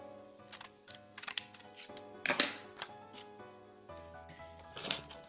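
A traced angle shape is cut out while building a built-in bookcase, producing a series of close, sharp snips and clicks in irregular bursts with brief pauses.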